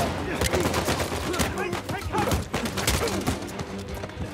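Rapid pistol gunfire in Uncharted 4 gameplay, many sharp close shots in quick irregular bursts throughout, with thuds and impacts mixed in and loud game action behind them.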